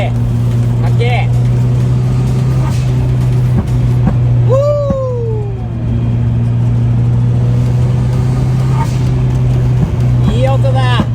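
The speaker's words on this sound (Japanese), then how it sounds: "バックファイアが いいよね" A Nissan Silvia drift car engine idling loudly with a deep steady drone, broken by a sharp rev that rises and falls, while people talk nearby.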